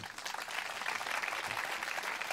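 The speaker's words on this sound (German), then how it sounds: "Klatscht ihn mal hoch." Audience applause at an outdoor summer theatre festival song slam, a steady broad wash of clapping from a crowd that carries on evenly for the whole stretch without any voices.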